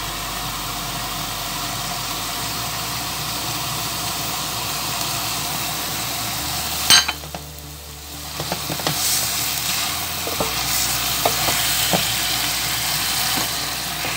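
Couscous ingredients with onions, spices, coriander and parsley fry on low heat, a steady loud sizzle and hiss with stirring scrapes; the crackle briefly drops away midway, then resumes with scattered taps.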